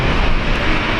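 China Eastern airliner in SkyTeam livery at Brisbane Airport, a steady broadband engine roar that holds at an even, fairly loud level throughout the brief moment, with no voices.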